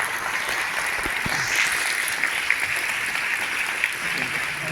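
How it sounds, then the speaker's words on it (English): A film festival audience at a Hong Kong meet-the-filmmaker talk gives Leos Carax a round of applause: dense, even clapping from a sizable crowd, steady for the whole stretch with a few sharper individual claps standing out. "So shall we give another round of applause to Leos?"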